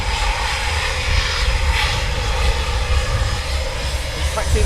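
RAF 12 Squadron jet aircraft at RAF Coningsby taxiing past, a steady loud engine roar with deep rumble and whine held throughout, fairly close, with faint voices underneath.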